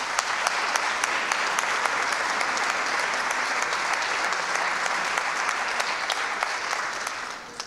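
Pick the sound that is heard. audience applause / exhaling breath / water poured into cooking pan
audience applause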